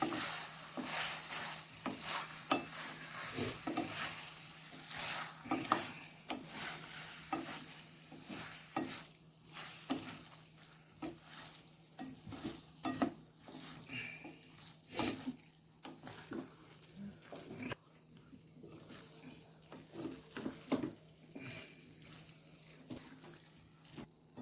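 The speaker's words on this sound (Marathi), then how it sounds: "टोमॅटो सॉस आपण ॲड करत आहोत. त्यानंतर पुन्हा फ्राय करून घ्यायचं आहे." Chilli paneer frying in a pan after tomato sauce is added, with steady sizzling and repeated scraping stir strokes, a constant low hum underneath and no talking.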